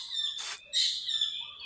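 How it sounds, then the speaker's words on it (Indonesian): Birds chirp close by in a forest, a short bright burst of tweets followed by a sustained warbling call, alone and clear. "tidak ada suara mesin atau suara kendaraan, yang ada suara burung"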